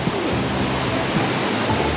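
A raging river at Hopewell Rocks on the Bay of Fundy roars close and loud in a continuous, dense rush of churning water with no pauses.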